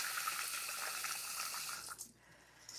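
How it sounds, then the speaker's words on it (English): Water pours steadily from a tap into a pot of grits for about two seconds, a close hissing gush that then cuts off, followed by a faint splash. "I'm gonna put some more water in my grits."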